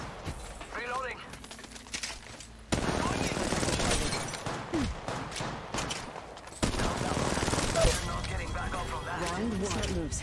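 Automatic weapons fire in Apex Legends Mobile, with bursts of rapid shots that break out loudly partway through and keep going, mixed with game voice lines and other action sounds.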